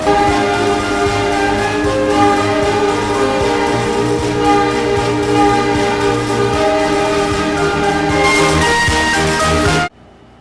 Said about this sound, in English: There was nothing that could stop the train from speeding up to its top speed of 65 miles an hour.